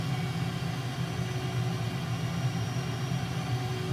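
An F/A-18E Super Hornet jet engine in Microsoft Flight Simulator, a steady, loud, low droning roar with a constant hum that holds evenly as the throttle is brought up.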